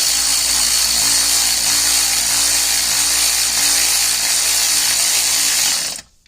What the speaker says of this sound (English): I finally splurged and got this electric ratchet